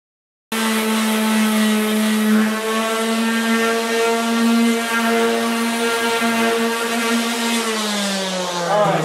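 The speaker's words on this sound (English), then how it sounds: "maybe we'll get ready to run through the belt sander there" A belt sander for a knotty pine cabinet door starts up and runs with a steady, loud, humming motor whine that sags slightly in pitch toward the end, with no talk.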